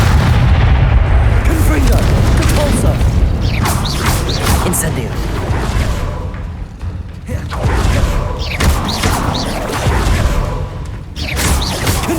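Confringo blasting spell explosions in the video game Hogwarts Legacy, loud booming blasts and crackling bursts layered over dense, continuous combat noise.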